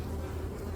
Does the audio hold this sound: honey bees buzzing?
yes